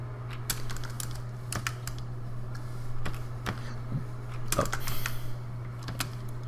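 Someone types Python code on a computer keyboard in quiet bursts of clicky keystrokes with short pauses, over a constant low electrical hum.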